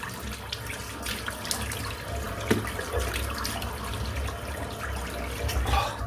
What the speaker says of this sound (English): just rinse that off